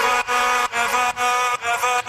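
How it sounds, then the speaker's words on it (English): A short vocal chop sample from an FL Studio drop repeats in quick succession, each bright sustained slice cut off by a brief gap, loud and alone. "So I took part of this sample here,"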